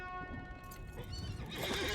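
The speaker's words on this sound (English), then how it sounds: "We can get back on the horse" A horse in the video game LOTRO whinnies loudly and close, its shrill neigh rising and falling, with hooves clopping steadily beneath it.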